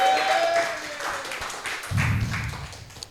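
Audience applause from a live crowd: a steady, moderately loud wash of clapping that carries through, with a lower rumble swelling in near the end.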